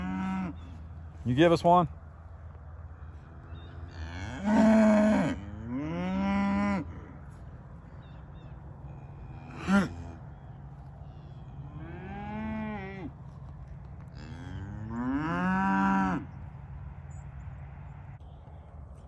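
Longhorn cattle on a farm give a series of deep, drawn-out moos, some close and loud, others fainter and farther off, spaced across the stretch with quiet gaps and a brief spoken question near the start.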